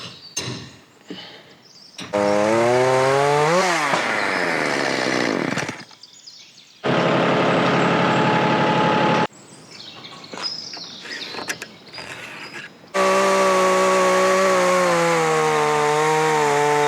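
A chainsaw cuts through a roof LVL beam at an off-grid cabin, loud and close, revving in long sustained bursts with pitch rising and falling under load, separated by short idling pauses.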